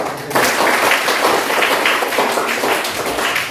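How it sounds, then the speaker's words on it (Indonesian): Students applauding in a classroom at the end of a lesson, a sudden burst of dense, lively clapping from a small group that starts sharply and holds steady throughout. "Tepuk tangan."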